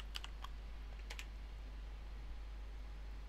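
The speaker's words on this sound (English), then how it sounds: "So we'll type in Andrew's password" Brief bursts of typing on a computer keyboard while entering a password at a Raspberry Pi terminal, a few quick clicks early on and then quiet, faint over a steady low hum.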